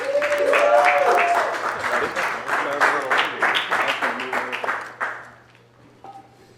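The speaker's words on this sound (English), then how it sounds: "Can we give him a round of applause?" Audience applause at a small gathering, several seconds of clapping with voices and cheers over it, tapering off to scattered claps and quiet.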